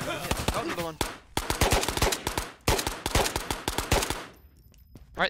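Rapid gunfire from a gun in the VR shooter Ghosts of Tabor, two dense bursts of sharp close shots separated by a short pause, followed by quieter ambience.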